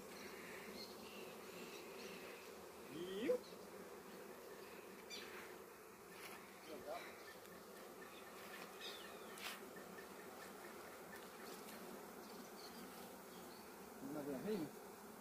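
Honeybee swarm arriving, a continuous dense buzzing hum of many bees with individual bees zipping close past the microphone, fairly faint and steady throughout.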